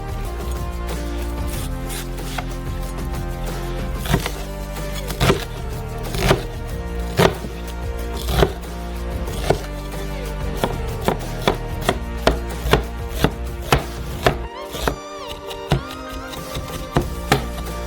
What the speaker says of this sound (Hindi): एक बड़ा प्याज छीलेंगे। छोटे क्यूब्स में काट लेंगे।